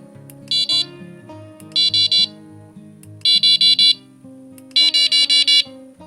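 Hirisi S5 fishing bite alarm beeping in rapid bursts of high-pitched tones, four groups separated by short pauses, loud and close, with a low musical hum beneath.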